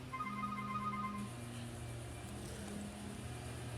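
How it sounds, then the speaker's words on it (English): A phone rings with repeating electronic tones over a steady low engine-like hum, then the ringing fades as the background drone continues. "This is Ops calling my phone."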